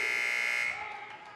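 A loud, sustained electronic buzzer blares at the end of a quarter in a women's varsity high school basketball game, alone at first and then fading under crowd noise in the gym.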